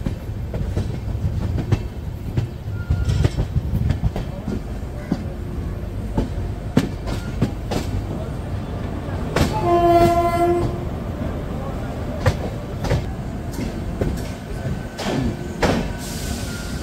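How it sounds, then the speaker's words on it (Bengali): The 13115 Sealdah–Jalpaiguri Road Humsafar Express pulls into platform 6 at Ranaghat with a low rumble and scattered clanks, its horn sounding once for about a second partway through, loud and close. "6 নম্বর প্ল্যাটফর্মে কিন্তু ট্রেন দিয়েছে"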